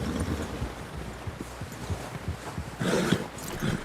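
Horse hooves clip-clopping in Red Dead Redemption 2, a steady muffled run of hoofbeats under wind, briefly louder near the end.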